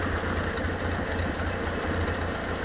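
A tractor spraying a corn field runs wide open in third gear, a loud, constant engine drone with a deep rumble and a steady mechanical chatter, no voices.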